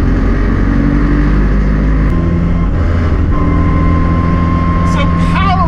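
A 1973 Pinzgauer 710M with an air-cooled 2.5-liter four-cylinder gas engine drones loudly and steadily from inside the cab, with a brief shift in tone partway through and a voice coming in near the end.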